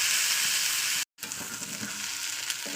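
Mashed fish for a Bengali bhorta frying in a hot pan with a steady, bright sizzle, broken by one brief silent gap before the frying hiss resumes.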